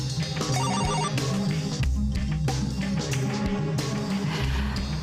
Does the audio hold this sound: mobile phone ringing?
yes